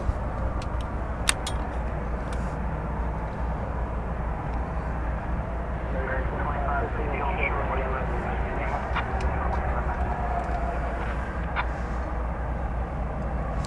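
A Fiji Airways Airbus A350-900 takes off at night from DFW Airport, a steady, broad, distant jet roar holding throughout at moderate level with faint background murmur.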